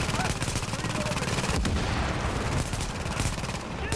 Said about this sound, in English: I don't know if I'm getting shot by a sniper.